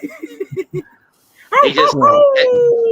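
A chihuahua lets out a wavering, high-pitched howl that slides downward and holds for over a second, following a few short vocal sounds and a brief pause.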